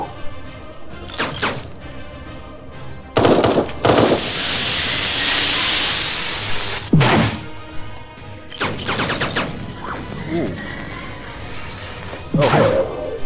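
Turrets in the video game Eden Star fire at enemies as loud bursts of sci-fi gunfire and impacts, separated by a long rising whoosh and scattered crashes, set against game music.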